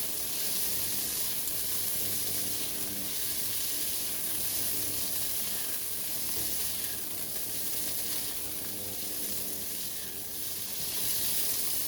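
Shrimp stir-frying in a pan, a soft, continuous sizzle that holds steady and fairly quiet for the whole stretch, with faint stirring underneath.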